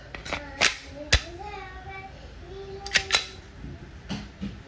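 Umarex Glock 17 Gen 5 CO2 airgun shooting 4.5mm steel BBs, several sharp snapping shots spaced irregularly, fairly close, with a faint voice in the background.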